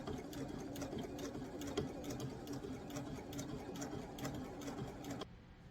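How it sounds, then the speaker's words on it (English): A sewing machine stitches across folded fabric for a fabric bowl, its fast even whirring held close and steady for about five seconds before cutting off abruptly near the end. "you just keep folding and sewing across"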